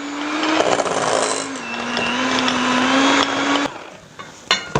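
An electric mixer whirs steadily as it beats butter and brown sugar for oatmeal chocolate chip cookies, a loud continuous drone with faint rattles before it cuts out near the end.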